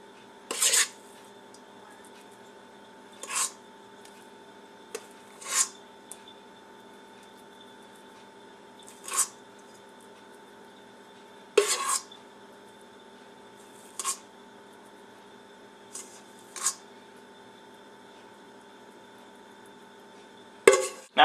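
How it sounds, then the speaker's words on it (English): A metal spoon clinks sharply against a baking dish in about a dozen spaced taps while spooning butter mixture onto hot peaches for a Southern peach cobbler, otherwise quiet with a steady background hum. "drop spoonfuls of the butter mixture we just made onto it"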